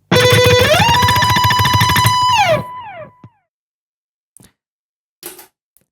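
An Ortega ukulele plays a fast, bright shred lick with a rising slide and a falling slide for about three seconds, then cuts to near silence with a few faint clicks.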